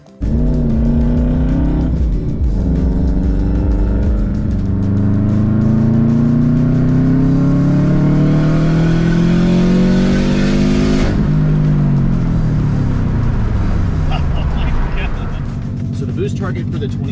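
A 2009 Subaru WRX STI hatch with a Blouch turbo and Tial 44mm external wastegate starts and revs hard up close, its engine note climbing in long sweeps then dropping, loud throughout with a voice speaking over it.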